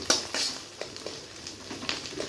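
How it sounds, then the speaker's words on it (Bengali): Fish roe broken up and stirred in a frying pan: soft, repeated scraping strokes over a faint, steady sizzle, quiet and close, with no voices. "ভেঙে দিতে হবে যেন ভালোভাবে ভাজা হয়"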